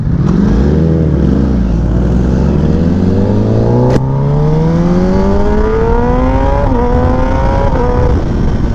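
Kawasaki Ninja ZX10R sport motorcycle accelerating hard on the road, engine revving loudly and climbing steadily in pitch through the gears, with a brief shift break and continuous wind rush throughout.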